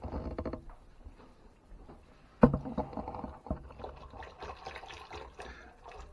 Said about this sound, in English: So let's go ahead and start whisking that.